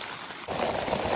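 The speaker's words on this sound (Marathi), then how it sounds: "वाऱ्यामुळे पाऊस पण लवकर जाईल" After a brief quiet moment, a sudden hiss of rain starts up and continues steadily, pattering loudly on nearby surfaces.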